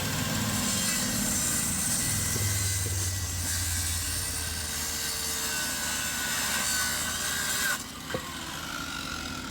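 A cheap $20 Shop Series hand saw cutting across a wooden board during a building renovation, with a continuous rasping, rubbing stroke sound that stays close and steady, easing briefly near the end.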